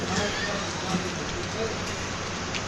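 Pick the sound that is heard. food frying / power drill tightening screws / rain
rain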